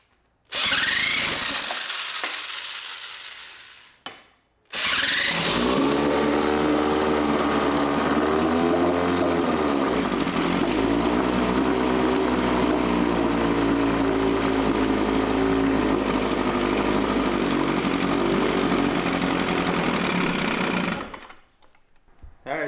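A Mercury 9.8 hp 110 outboard engine, running on carburetor cleaner, sputters briefly, then catches and runs loud and steady up close for about fifteen seconds before cutting out.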